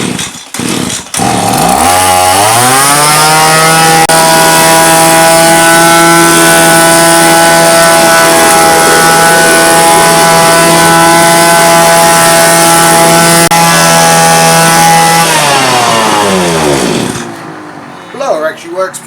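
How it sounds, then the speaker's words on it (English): A Victa Vac & Blow petrol leaf blower starts up, revs and runs at a steady, loud, buzzing drone close by for about fifteen seconds before winding down and cutting out. "Let's see how the blower works."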